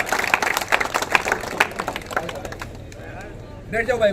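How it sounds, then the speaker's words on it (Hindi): Crowd at a late-night public gathering on a town's main square applauding a guest welcomed with a turban, a busy burst of clapping that thins out, with voices and a public-address speaker rising at the end. "कृपया जोरदार तालियां"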